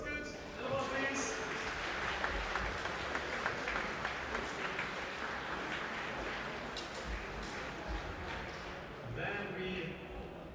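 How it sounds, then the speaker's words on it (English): Applause from an audience at a sabre and longsword fencing award ceremony, a steady broadband wash of clapping lasting throughout, moderately loud in a large hall with scattered sharper claps. "And applause, please."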